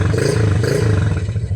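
Close up, a Honda Click scooter with a freshly replaced cylinder block is revved, its engine note swelling into a brief rough roar and then easing back.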